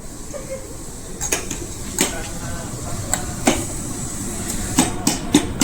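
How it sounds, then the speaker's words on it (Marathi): Ginger pounded finely for Amul milk tea: a series of sharp, irregular knocks and taps close by, rising over a steady background hiss. "आता अद्रक बारीक करतोय"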